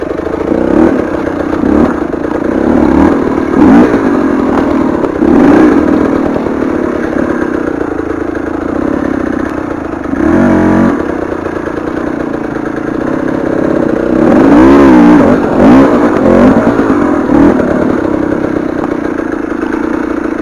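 A KTM 300 TPI two-stroke dirt bike rides rough terrain in Mexico, its engine loud and close throughout, idling and revving in repeated surges with mechanical clatter.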